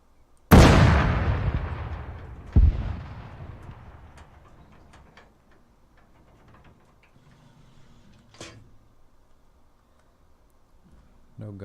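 A WWII Flak 88 anti-aircraft gun fires in the Arma 3 IFA3 mod, two heavy booming shots a couple of seconds apart with long rumbling decays, followed by faint mechanical clicks and a sharper distant crack.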